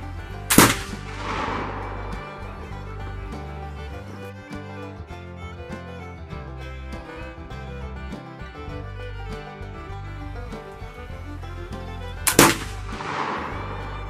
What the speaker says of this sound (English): There's five shots.